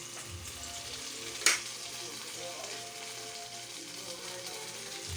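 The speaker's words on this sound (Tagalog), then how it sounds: "Tapos, prito ako ng tokwa." Quiet, steady sizzling of tofu frying in oil, with a single sharp pop partway through.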